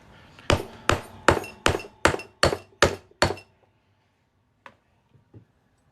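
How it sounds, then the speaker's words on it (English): A hammer strikes a punch through a North Dakota quarter coin to make a ring, eight sharp metallic blows in a steady rhythm, close and loud, followed by a few faint taps. "I'm just going to hammer it through."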